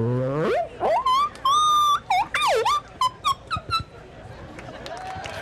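A person imitates a Sasquatch call at a Bigfoot calling contest, a loud rising howl followed by whooping, yelping cries in quick bursts, close to the microphone, with crowd noise underneath.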